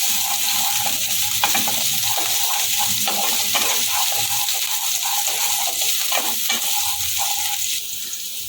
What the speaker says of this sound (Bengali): দেবো একটু কোচানো কাঁচা লঙ্কা একটুখানি নেড়ে নেবো